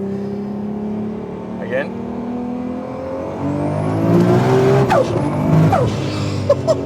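A Nissan Skyline R34 GT-R V-Spec street car engine revs in rising bursts during double clutching, growing louder toward the end beneath near, ongoing talk.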